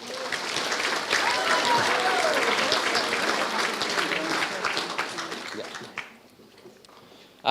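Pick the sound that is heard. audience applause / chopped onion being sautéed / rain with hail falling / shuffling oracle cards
audience applause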